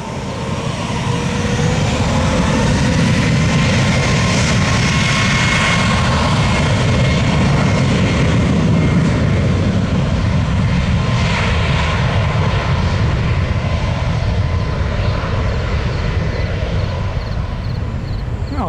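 A UPS MD-11 jet taking off on runway 21 right at Tampa, its engines roaring loud and steady across the whole stretch, with broadband thrust noise and no voices.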